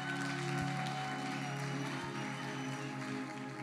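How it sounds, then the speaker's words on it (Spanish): Church congregation applauding, a faint, steady wash of clapping from a large crowd heard at a distance, with a few louder thuds mixed in. "apláudenmele a todos los servidores en todas las sedes"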